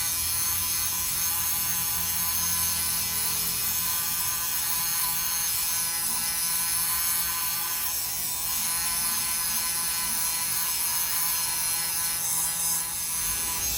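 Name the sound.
depilling a sweater's sleeves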